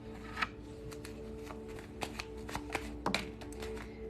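Tarot cards are shuffled by hand, a soft continuous riffle broken by scattered light taps and snaps of the deck, quiet and close.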